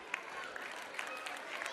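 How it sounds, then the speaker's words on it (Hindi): An audience at a school annual gathering applauds a student performance with a short burst of steady, dense clapping, with some background voices mixed in. "हौसला अफजाई के लिए तालियां बजाइए"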